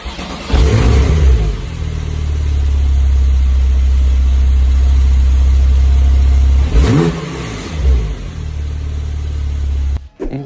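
A 2016 Porsche 911 Turbo S with very low mileage, its engine revved loudly at close range, rising into a sustained rumbling roar and then a second rev burst, with no talk.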